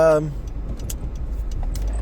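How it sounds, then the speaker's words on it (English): Cars pass along a road with a low, continuous rumble. A voice is heard only at the very start. "Waiting for cars to pass."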